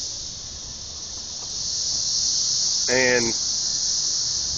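A cicada swarm buzzes outside a house in Nashville, a steady high-pitched drone filling the whole clip, with a brief squealing call near the end and a single spoken word.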